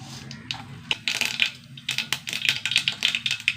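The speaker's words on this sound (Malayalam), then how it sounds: "കടുക് പൊട്ടി" Mustard seeds spluttering in hot oil in a pan, a quick run of sharp crackling pops that grows denser and more rapid toward the end, close and moderately loud with no talking.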